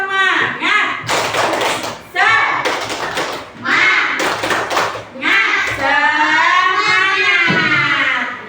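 Classroom of children doing a rhythmic clap-and-chant routine, bursts of synchronized clapping alternating with shouted chanting, ending in a long drawn-out group cheer.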